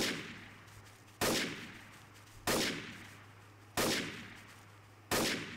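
Gunfire in the video game Garry's Mod, five heavy single shots at a steady interval of roughly 1.3 seconds, each followed by a long echoing decay over a faint low hum.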